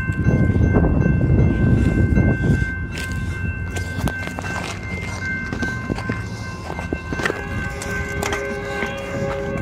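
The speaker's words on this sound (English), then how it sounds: "another BNSF coming" A BNSF freight train rumbles past at close range, heavy low wheel and car noise loud at first, then a steadier rolling clatter with squealing tones and a faint horn-like hum continuing throughout.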